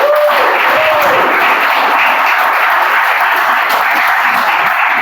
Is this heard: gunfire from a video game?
no